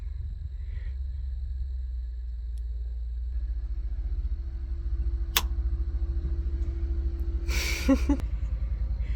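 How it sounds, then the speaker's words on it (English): An approaching vehicle's motor hums as a steady low rumble far off at a remote off-grid lakeside cabin, with a brief sharp click and a short clatter late on. "I think I hear a motor for real now"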